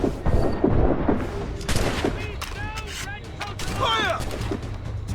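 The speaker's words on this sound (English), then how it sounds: "They're shooting back!" Musket and cannon fire crackles and booms during a naval battle in Assassin's Creed Rogue, with repeated shots over shouting voices and a dense, chaotic combat din.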